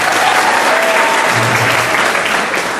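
Loud, dense applause from a stand-up comedy audience, steady hand-clapping that runs the whole moment with no voices over it.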